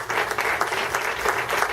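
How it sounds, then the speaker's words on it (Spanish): Audience applause at a talk, a steady, close wash of many hands clapping that fills the short moment without pause. "vamos a darle un fuerte aplauso a Denise."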